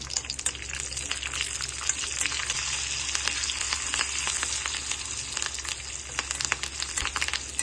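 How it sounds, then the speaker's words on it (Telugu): Mustard seeds, cumin and dried red chillies splutter in hot oil for a tempering, a dense, steady crackle of sizzling and popping seeds heard up close without any talking. "ఆయిల్ వేసుకొని పోపు దినుసులు వేసుకోవాలి ఆవాలు జీలకర్ర ఎండుమిర్చి"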